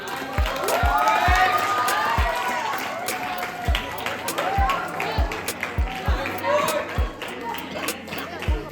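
Children cheer and shout at a robotics competition finish, with scattered claps and thumping footsteps under lively overlapping voices, the clapping growing sparser toward the end.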